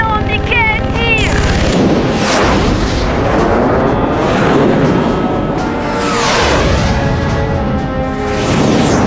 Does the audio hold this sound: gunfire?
yes